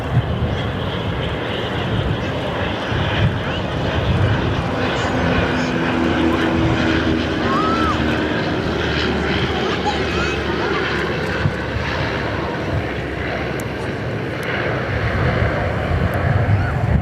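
A Dash 8 turboprop arrives at Perth Airport, its engines giving a continuous rumbling drone that stays steady and fairly close throughout, with a voice talking over it.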